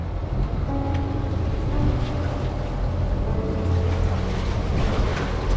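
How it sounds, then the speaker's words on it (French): A sailboat's steady, droning engine runs continuously at close range during a transatlantic crossing, its low hum mixed with wind and water noise. "J'en ai marre d'entendre ce moteur"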